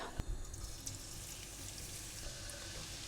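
Garlic fries in hot oil for a creamy black dal, a steady close hiss of sizzling with a few faint clicks near the start.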